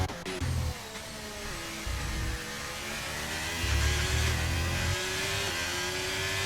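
Formula 1 race cars in the F1 23 video game roar down the straight on the Portugal track, a steady high-pitched engine whine with gear shifts and rising revs, loud and continuous without speech.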